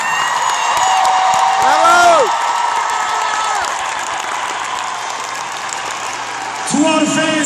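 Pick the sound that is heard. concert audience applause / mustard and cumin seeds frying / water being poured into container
concert audience applause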